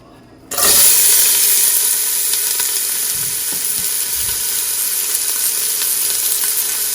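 Aromatics hit about a tablespoon and a half of hot oil in a soup pot for callaloo, setting off a sudden loud sizzle that holds as a continuous close hiss for several seconds.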